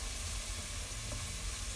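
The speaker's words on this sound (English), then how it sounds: "Got a nice sizzle going on." Steady, dense sizzling of onions frying in a pan, a constant crackling hiss with no talking.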